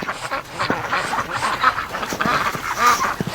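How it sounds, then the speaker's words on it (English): Several ducks quack repeatedly in short, overlapping bursts, fairly close, against a soft outdoor background. "the ducks would go forage through the snow to eat weed seeds"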